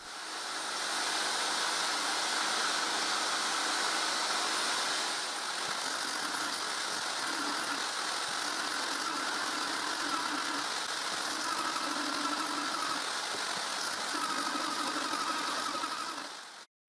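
A disc sander working the surfaces of wooden posts, a steady loud continuous whir with a broadband grinding hiss that dips slightly partway through and shifts in tone as the wood is pressed against the disc.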